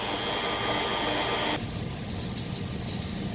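A submerged arc welding machine lays an automatic fill weld as the workpiece turns at welding speed, giving a steady, loud mechanical drone and hiss that changes tone partway through, with no talking.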